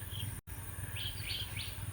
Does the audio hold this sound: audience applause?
no